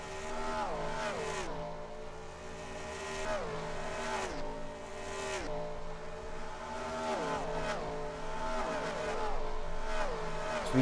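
Race cars in a racing video game at Dover sweep past in repeated waves, engines rising and falling in pitch as each pack roars by, loud and continuous.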